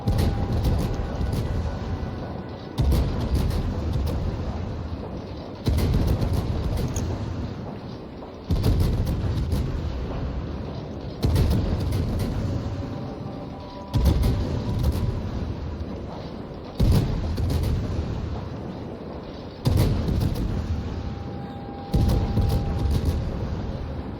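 Incoming shells from the battleship Montana slam down in a naval battle video game, landing as a series of heavy, rumbling booms roughly every three seconds, each one loud and close, with no talk over them.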